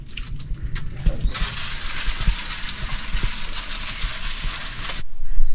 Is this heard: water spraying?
yes